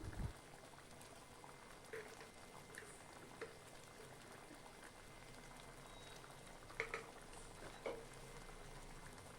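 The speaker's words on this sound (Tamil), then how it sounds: "குழம்பு நல்லா கொதிக்கிறப்ப" A pot of garlic tamarind curry bubbles steadily at a low simmer, with faint irregular pops and plops over a constant soft hiss.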